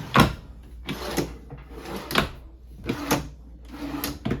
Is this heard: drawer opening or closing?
yes